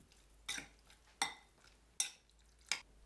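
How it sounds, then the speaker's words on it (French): Beef marinade with egg white, light soy sauce and rice wine being stirred in a bowl, four distinct scraping clinks of utensil against dish at a steady, unhurried rhythm, close and clear with no talking. "Je mélange."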